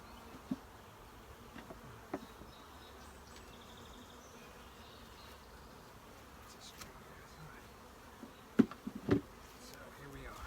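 Honey bees buzz faintly around an open hive during a hive split, a thin, steady drone heard over outdoor background noise, with a few knocks and handling sounds near the end.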